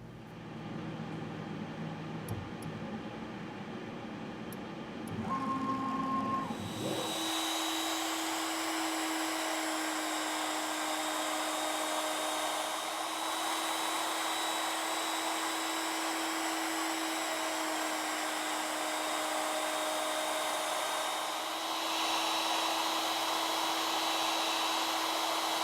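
A ShopSabre CNC router cuts a banjo neck with a straight bit. Quiet low hum and clicks come first, then the spindle and cut start with a loud, steady high-pitched whine that holds for the rest, with no talk.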